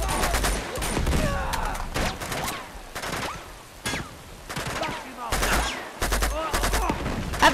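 Gunfire and grenade blasts in the video game Uncharted 2: Among Thieves, with repeated bursts of shots and heavy booming explosions in irregular clusters, dense and close, with game voices mixed in.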